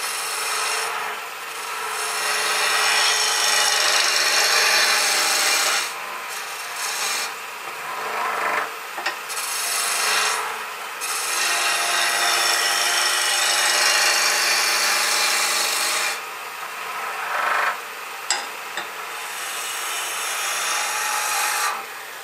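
A bar of soap rubbed back and forth along the metal tool rest of a wood lathe makes loud, continuous rasping scrapes in long strokes, broken by a few short pauses, with no talking.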